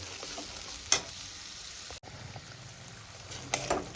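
Spice masala of turmeric, Kashmiri red chilli powder and salt is sautéed and stirred in a pan for a katla fish recipe, a soft steady sizzle broken by a few brief scrapes.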